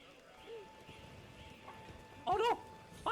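A horse in the video game Pathfinder: Wrath of the Righteous gives a brief whinny-like call near the end, following faint hoof clip-clops under low game ambience.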